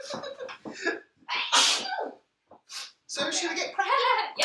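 A person lets out a sharp sneeze, followed by brief talk from others nearby in a home kitchen.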